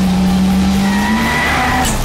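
A tuned VW Golf takes the final corner of a test track at speed, its engine droning loudly and steadily as the tires begin to squeal, close and continuous with no talking.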